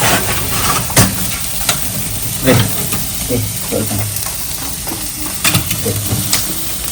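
Food sizzles and crackles steadily over a barbecue fire at a Raya gathering, a constant frying hiss with occasional sharper pops and faint voices in the background.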